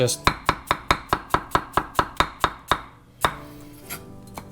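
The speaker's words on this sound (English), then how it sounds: "give that a chop and call it a day" Onions diced with a knife on a cutting board, a fast even run of about twelve crisp close chops, followed by a pause and a few slower, softer cuts.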